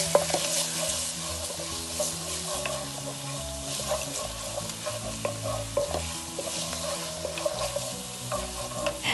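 Ginger garlic paste sautes in a hot pan for a fenugreek pilaf, with a constant sizzle under repeated spatula strokes scraping and stirring close up, no talking.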